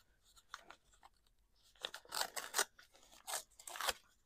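Paper from a junk mail envelope being torn along an edge by hand, with several short, close rips and crinkles, the last ones louder, in a quiet room.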